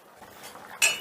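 A metal lid lifted off a pot of lemon chicken, a faint quiet scrape ending in one sharp clink of metal, close and alone.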